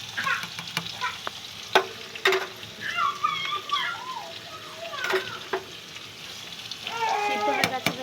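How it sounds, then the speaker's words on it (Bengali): Pumpkin, carrot and green papaya are stir-fried for khichuri, giving a crackling sizzle broken by sharp clinks of the spatula against the pan. Faint tonal chirps rise in the background. "কুমড়ো, গাজর, পেঁপে, হালকা করে কষে নেব"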